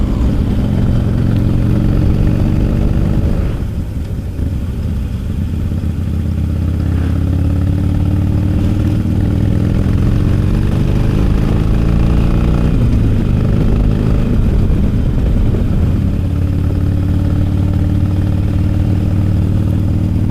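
A Harley-Davidson Sportster motorcycle ridden along a road, its engine droning steadily and loud throughout, rising and falling with gear changes and throttle, with wind rumble over the whole ride.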